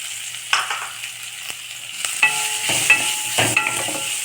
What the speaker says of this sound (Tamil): வெங்காயம் நல்லா வதக்கிட்டு